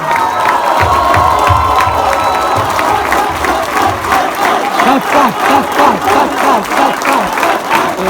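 A crowd at the final day of a youth venture event bursts into loud applause mixed with cheering and whoops, the clapping dense and continuous with shouts rising over it throughout.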